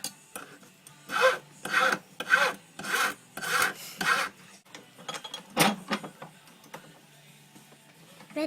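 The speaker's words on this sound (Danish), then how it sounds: "Nu filer hun den." A hand file rasps back and forth on thin jewellery wire, six or seven steady strokes near and clear, then a couple of sharper scrapes and faint handling noises with no talk.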